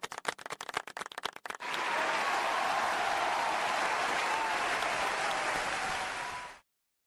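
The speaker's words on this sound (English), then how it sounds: "Can we get a big round of applause for Kuihman" A burst of steady, dense applause from many hands follows a few scattered claps, holding loud and even for several seconds before cutting off abruptly.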